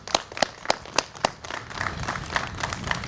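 Clapping from a crowd gathered at an outdoor Peruvian flag raising, opening with several slow, separate loud claps in an even rhythm, then spreading into a fuller, continuous patter of applause from many hands at moderate distance.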